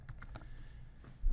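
Close keystrokes on a computer keyboard during 3D software work: a brief burst of several quick taps, then a pause and a final louder thump.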